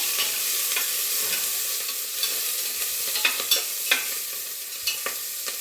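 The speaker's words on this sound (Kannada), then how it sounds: "ನೆಕ್ಸ್ಟು ಹಸಿಮೆಣಸಿನಕಾಯಿ ಹಾಕೊಂಡು ಸ್ವಲ್ಪ ಬಾಕೋಣ." Onion and green chillies frying in oil, stirred with a spatula: continuous sizzle with irregular scraping clicks growing more frequent toward the end, no voices.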